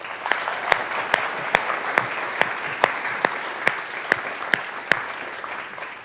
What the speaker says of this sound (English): Let's give Victoria a round of applause